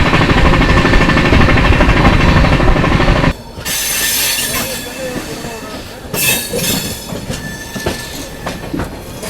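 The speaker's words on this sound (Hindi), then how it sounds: "आ गई दोस्तों आप लोगों की प्रयागराज रामबाग की ओर जाने वाली विभूति एक्सप्रेस।" The Vibhuti Express passenger train to Prayagraj Rambagh passing close by, a loud roar of wheels and rattling cars, then clattering clickety-clack and occasional wheel squeal as it continues past.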